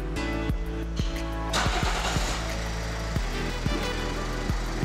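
A Toyota 1.4 D-4D diesel engine idles steadily close by, a continuous low rumble with a regular knocking pulse throughout and a brief rise in broadband noise midway.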